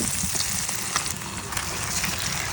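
Eggs hitting hot tomato masala in a pan set off a steady, loud sizzle and crackle of frying that runs continuously throughout with no pauses.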